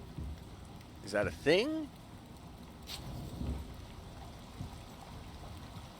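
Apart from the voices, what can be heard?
running water sounding like rain in video game Icarus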